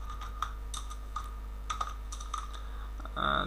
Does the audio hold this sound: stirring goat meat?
no